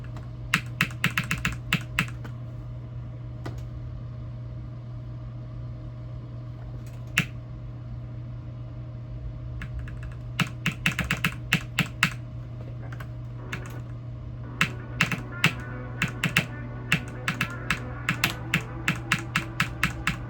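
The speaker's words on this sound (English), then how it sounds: "These clicks are like top for me." Rapid bursts of computer keyboard and mouse clicks during gameplay runs, sharp and close, coming in dense clusters separated by quieter gaps over a steady low hum.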